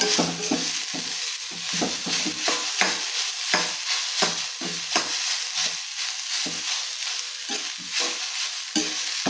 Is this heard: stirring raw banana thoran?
yes